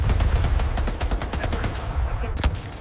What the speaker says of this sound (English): From the cliffs, machine guns still spoke.